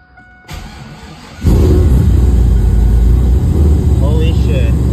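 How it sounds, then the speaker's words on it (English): A Chevrolet Camaro engine cranking after a quiet start, then catching abruptly and settling into a loud, close, rough idle that holds steady, with a voice heard over the running engine. "We're gonna go ahead and try to start this thing up."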